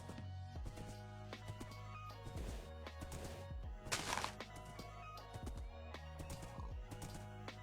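Horse in a video game whinnying and galloping with steady clip-clop hoofbeats, a loud neigh in the middle, over a looping game soundtrack.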